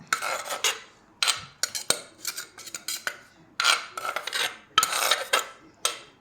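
Repeated bursts of clattering, scraping strikes in uneven rhythm, close by, as a pestle pounds and grinds cucumber salad in a mortar, with brief pauses between runs.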